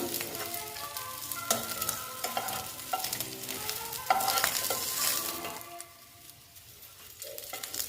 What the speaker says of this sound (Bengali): মোটামুটি আমার মাছ ভাজা হয়ে গেছে আমি দেখো বেশ কড়া করে ভাজলাম